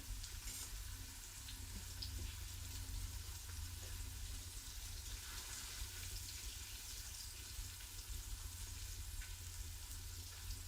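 Beef searing in an Instant Pot, a steady close crackling sizzle that runs unbroken and evenly loud, with no talking.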